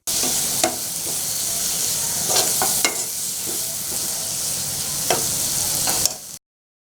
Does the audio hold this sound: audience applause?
no